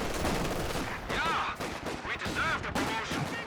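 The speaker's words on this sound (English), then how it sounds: "Oh, cheeky close-range rifle nade." Close-range rifle grenade blast and rifle fire in the World War II strategy game Company of Heroes 2, a quick cluster of sharp cracks and a burst over dense battle noise, with someone talking over it.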